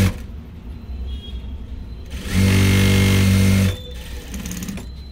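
A sewing machine runs a quick burst of stitching on blouse fabric, a loud steady whirring hum lasting just over a second, set between quieter stretches of handling noise.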